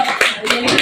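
A few scattered claps from a small audience at a business presentation, brief and close, in quick irregular bursts.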